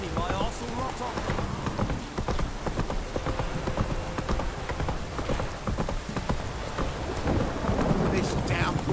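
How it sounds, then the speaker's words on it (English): Heavy rain pours steadily as a dense hiss, with scattered clopping knocks and low rumbles beneath, while a voice speaks over the downpour. "This downpour's a bastard,"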